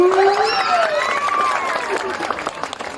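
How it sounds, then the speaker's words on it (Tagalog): Crowd applause mixed with cheering and high voices at the Queen of Saperia 2025 festival costume pageant, dense and steady throughout, with an emcee's voice over it. "Wala po bang palakpakan dyan?"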